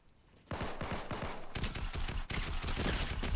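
Rapid assault rifle gunfire in a video game, with a short burst of distinct shots followed by a longer, denser string of loud close-range rounds and no talk.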